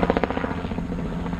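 A helicopter flies overhead, its rotor throbbing in a fast, steady chop at moderate loudness, heard from outdoors with no talking.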